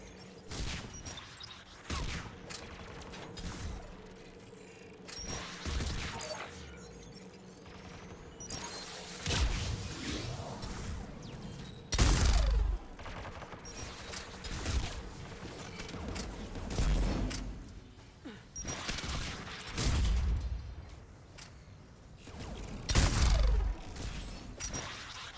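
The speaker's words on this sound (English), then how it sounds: "AA guns ahead of us." Anti-aircraft guns in Mass Effect 3 fire a dense, continuous barrage, with repeated loud booming bursts and heavy thuds rolling through the whole stretch at close range, and no one speaking.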